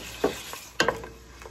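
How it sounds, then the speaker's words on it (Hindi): Beef for a palak aloo gosht going into a hot pan and frying, a constant sizzle with a few quick spoon scrapes and knocks, close by and with no voices. "गाय का गोश्त है वो मैं इसमें डाल रही हूँ।"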